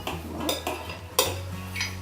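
A utensil stirs a hot soap mixture in a pot, giving scattered scraping and clinking knocks against the metal over a low steady hum, moderately close and with no talking.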